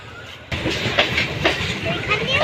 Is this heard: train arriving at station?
yes